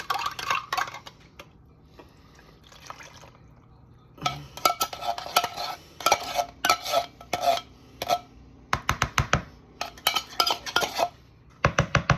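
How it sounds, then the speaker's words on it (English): A spoon stirs a cheese and potato mixture for scalloped potatoes in a pot, giving quiet scraping at first, then a run of sharp metallic clinks and scrapes against the pot's sides, close and with no talk. "We're going to stir that until you can't stir no more."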